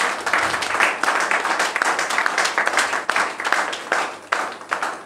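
A church congregation applauding during a French-language sermon about Jesus, dense sustained clapping from many hands filling the room, steady and fairly loud throughout.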